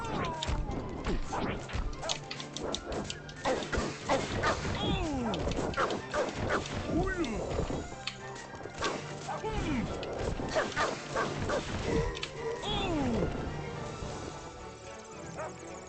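A cartoonish dog barks in the Asterix and Obelix Slap Them All video game. Short repeated yaps mix with slap and crash effects and game music, and a person talks over the play.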